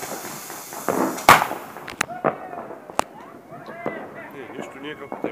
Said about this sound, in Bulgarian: Те фойерверки.